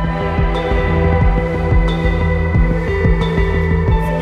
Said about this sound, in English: Negative ion conditioning dryer.